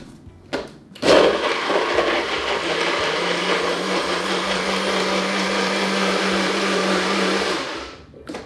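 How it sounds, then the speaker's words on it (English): A countertop blender runs loud and steady, whirring through lemon juice, agar powder and vanilla paste for a vegan Sacher torte, starting with a sharp surge, then holding a constant grinding roar before spinning down, with no talk. "Then it's as simple as just blending everything."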